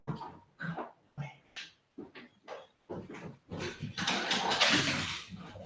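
A dog plays noisily indoors, giving repeated short grunting barks and huffs in an irregular rhythm, then breaking into a longer rough, growly roughhousing burst, all fairly faint and distant.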